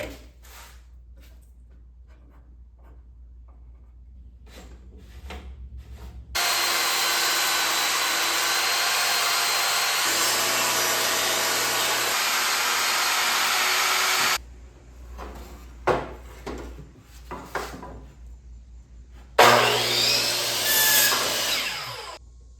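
A power saw cuts wooden pieces for a nightstand base in a home workshop: a loud, steady whine runs for several seconds, stops, and returns after a stretch of quieter knocks and handling clatter.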